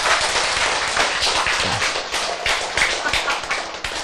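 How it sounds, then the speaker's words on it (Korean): An audience at a lecture on overcoming diabetes claps in a dense, steady burst of many hands that stays loud and even for the whole stretch, with no voices on top. "박수."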